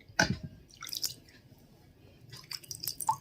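Wet squishing and dripping as water is scooped in the hands and worked into dry hair for a hair spa treatment, a few soft splashy bursts close by with quiet pauses between.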